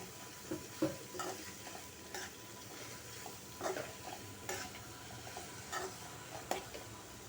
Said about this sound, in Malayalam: സവാളയും കറിവേപ്പിലയും കൂടെ ചേർത്ത് കൊടുക്കാം നന്നായിട്ടൊന്ന് ഇളക്കി മിക്സ് ചെയ്തെടുക്കാം